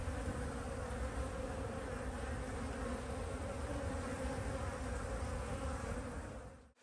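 Honeybees buzzing in the woods, a dense, continuous hum from many insects close by, steady and unbroken with no voices.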